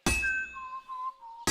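Two sharp hammer strikes on metal at a medieval forge in Kingdom Come: Deliverance 2, loud bright clangs at the start and end with a ringing metallic tone decaying between them.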